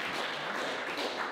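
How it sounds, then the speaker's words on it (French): An audience at a youth party political debate gives a brief burst of steady, moderately loud applause, dense clapping heard from within the room. "Gwendoline, je te laisse venir, on l'applaudit également."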